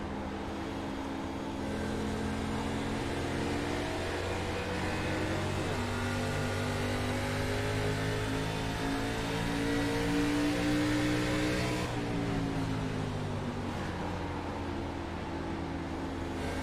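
Racing-game car engine heard from the cockpit, a steady mid-pitched drone rising and falling with gear changes and throttle, loud and continuous throughout with a brief dip near the end.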